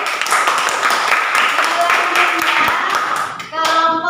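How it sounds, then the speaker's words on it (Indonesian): A schoolroom class claps steadily for a dense stretch of several seconds. The clapping fades near the end, and a voice takes over. "Kita berikan tepuk tangan dulu."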